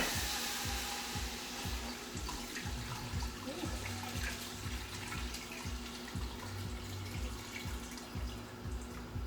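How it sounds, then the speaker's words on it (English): Two liters of water poured steadily into a large pot for beef soup, a continuous splashing rush with a low rhythmic burbling, close and fairly loud throughout, no talking. "And then I'm gonna add the 2 liters of water I have for now."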